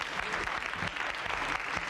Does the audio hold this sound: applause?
yes